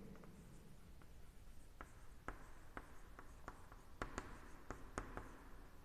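Quiet scratching and tapping of writing on a board during a chemistry lesson, with irregular short strokes and taps spread across several seconds and no speech.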